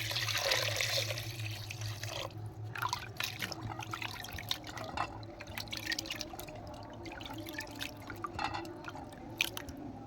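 Goat intestines being washed in water for cooking, with splashing, dripping and sloshing of liquid in a vessel, close and continuous, with occasional wet squelches and no talking.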